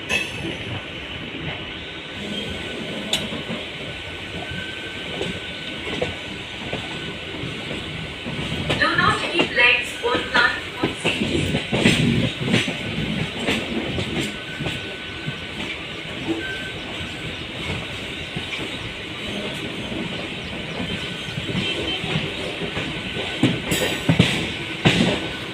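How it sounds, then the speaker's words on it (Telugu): An MMTS suburban train arriving at Hafizpet railway station, a station still under construction, heard as a steady rumble of rail cars with squealing wheels and clattering, swelling midway, under ongoing talk. "మనమైతే ఇప్పుడే ఆఫీస్పేట్ రైల్వే స్టేషన్లోకి వచ్చినాం."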